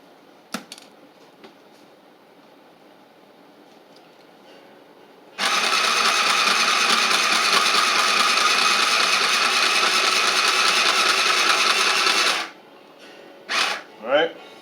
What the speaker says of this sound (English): you're basically going to stitch right on the outside of these little lines that you marked out